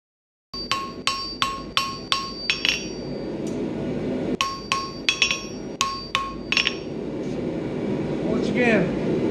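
Hot steel being hammered to taper an S hook: bright ringing hammer blows land in two quick rhythmic bursts on the anvil, loud and close, with a steady hum of forge or shop noise throughout.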